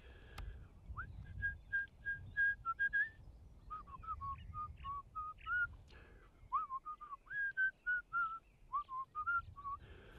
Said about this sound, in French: J'ai envie de vous siffler un petit truc pour l'occasion.